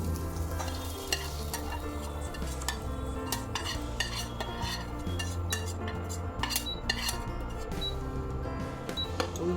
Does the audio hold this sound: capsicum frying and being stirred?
yes